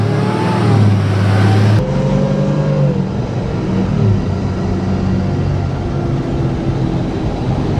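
A Cummins diesel engine in an H1 Hummer rumbles nearby outdoors, idling and revving with a deep, loud growl that shifts pitch before settling.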